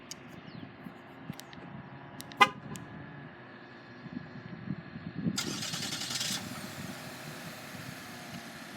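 A 2021 Chevrolet Malibu RS fires up by remote start: after a sharp short tap, a loud broadband burst of cranking and catching lasts about a second, then the engine settles into a steady idle.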